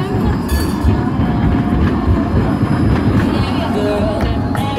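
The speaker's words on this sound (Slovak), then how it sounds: "OK, nech sa páči aj druhá električka číslo 1." A number 1 city tram runs past on a newly launched line, its steady loud rumble and rail noise continuing without a break, with faint wheel squeal on top.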